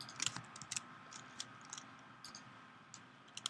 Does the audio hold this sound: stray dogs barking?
no